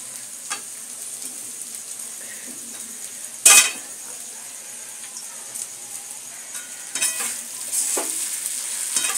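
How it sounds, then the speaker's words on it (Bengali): Thick flattened rice pulao with egg being stirred in a frying pan, a soft continuous sizzle broken by a sharp metal clink of the spatula and scattered scraping taps, close and without voices. "আর এইভাবে নাড়তে থাকবো, অল্প অল্প দেবো আর নাড়বো।"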